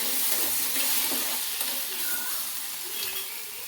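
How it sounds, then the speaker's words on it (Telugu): Steady, close sizzling and crackling of tamarind, green chillies, tomatoes, garlic and ginger frying in a pan, with a faint stir now and then and no talking. "అలాగే కొంచెం చింతపండు వేసి బాగా ఫ్రై చేసుకోవాలండి"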